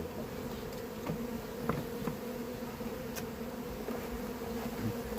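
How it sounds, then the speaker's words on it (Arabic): Honeybees from an opened hive in an apiary drone in a continuous, close buzz, with individual bees briefly zipping past the microphone; no one speaks. "ارفع كده ورينا الخلية التحتانية كمان يا محمد بيه"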